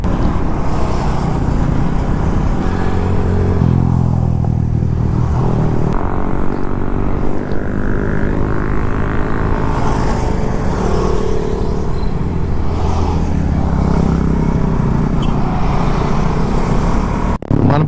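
A KTM Duke 200 BS4 and a Royal Enfield Classic 350 riding, loud continuous engine drone with rising and falling revs and strong low rumble, wind-buffeted and close throughout.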